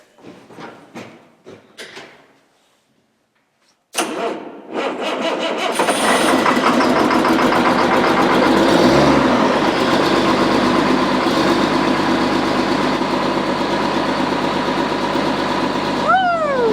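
After brief talk and a pause, an engine that sat all winter cranks and catches, then settles into a loud, steady idle with a constant drone.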